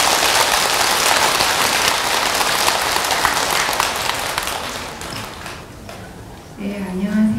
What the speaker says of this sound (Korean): 크게 박수 한번 쳐주시죠.